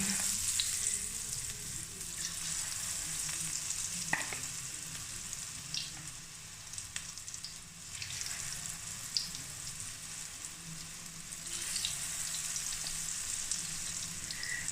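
Gram flour pakoras drop one by one into hot oil and bubble with a loud, continuous crackling sizzle that swells at intervals, with a few faint clinks along the way.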